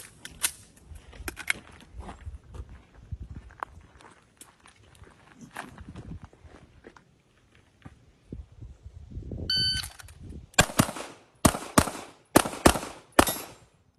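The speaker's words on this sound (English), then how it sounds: "Now, I'm going to shoot live ammo, and I want you to watch the gun moving between the targets." A pistol fires live ammunition at several targets during a practical shooting drill, with footsteps and shuffling first, then a rapid string of sharp, loud shots in quick pairs near the end.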